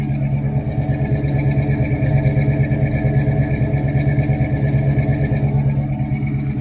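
Exhaust of a 1978 Pontiac Trans Am, a loud, steady, rumbling burble with a rapid pulsing beat that stays close and constant.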